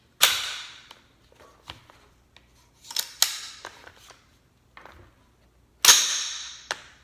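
Sharp metallic clacks and clicks of a Smith & Wesson M&P15 Sport II rifle's bolt being worked and locked, a few loud snaps with quieter mechanical rattles between, close up.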